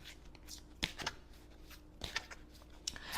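A deck of oracle cards being shuffled by hand, giving a few soft, close riffling flicks and taps over quiet room tone.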